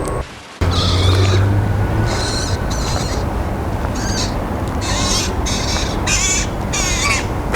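A flock of crows squabbling in a noisy outdoor setting at a narrow-gauge railway museum, with repeated harsh caws in bursts, fairly close and loud over a constant background rumble.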